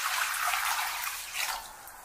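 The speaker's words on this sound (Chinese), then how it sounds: "然后往里面加入清水" Clear water pours steadily into a large bowl that holds a little baking soda and salt, making a continuous bright splashing rush that eases slightly toward the end.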